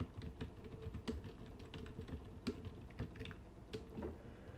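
Typing on a computer keyboard during a computer-science class exercise, a steady run of light, quick clicking keystrokes with no voices over it.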